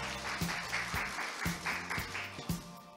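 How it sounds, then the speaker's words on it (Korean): Steady, moderately loud clapping from a seated audience fills the opening ceremony of the KMI policy research results report, continuous throughout, with a low background tone and occasional dull thumps underneath. "박수 부탁드리겠습니다."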